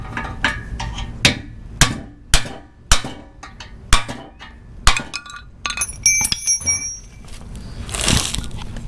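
A hammer knocks an old bushing shell out of a Nissan S14 rear car subframe in a series of sharp, ringing metallic taps, irregularly spaced and close, followed by a brief scraping clatter near the end.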